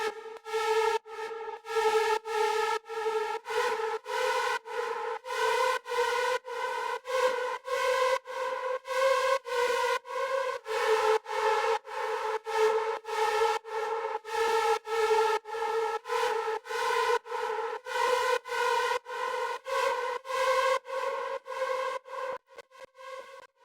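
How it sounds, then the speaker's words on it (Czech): A bright hardstyle synth lead plays a melody with effects applied, a sequence of sustained, harmonically rich notes in a steady rhythm, loud and alone without any talk. "Tak to je nějaký lead z hardstylu, který jsem takhle použil a naefektoval."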